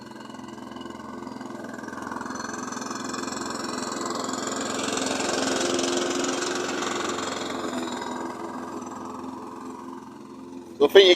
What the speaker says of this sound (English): you get the idea with the lawn mowing